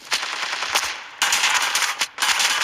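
Rapid automatic gunfire from the mobile shooter Standoff 2 crackles in loud, dense bursts, with two short pauses between long strings of shots and no talking.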